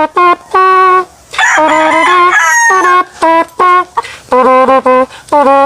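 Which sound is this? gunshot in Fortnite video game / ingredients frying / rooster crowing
rooster crowing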